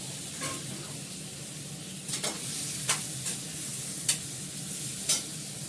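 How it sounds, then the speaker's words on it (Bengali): Something frying with salt and turmeric in a pan, a quiet steady sizzle with a few light, spaced spatula scrapes and taps, no voices. "নুন আর হলুদ দিয়ে ভালো করে ভেজে নিই"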